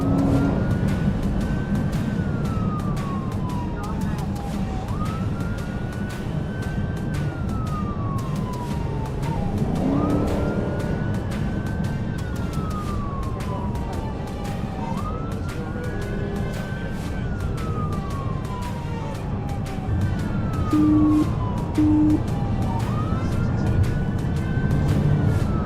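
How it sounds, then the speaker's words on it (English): A police siren wails in repeated rising and falling sweeps, loud and continuous over the rumble of a moving car during a police chase. "When the deputy activated lights and siren, the driver refused to stop"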